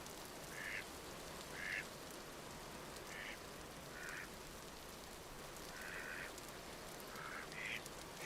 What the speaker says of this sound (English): You mallard ducks!